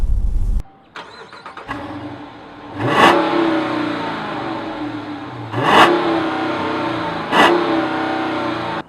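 A Hemi V8 car engine cranks, fires up and settles into a rumbling idle, then three sharp revs climb and fall back, close and loud, with no talking.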